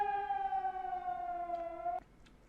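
A wailing emergency vehicle siren from the dispatch game Leitstellenspiel holds a steady, slightly falling tone for about two seconds, then cuts off abruptly, leaving faint background hiss.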